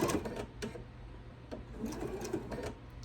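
A sewing machine stitches a lemon-print apron in a steady, fast mechanical whir with light rhythmic clicking, close and fairly quiet, running continuously to the end of a seam.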